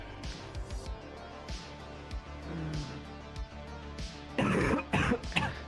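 Several coughs and throat clearings from a person during a medical checkup, irregular bursts with a heavier cluster near the end, fairly close with faint room noise.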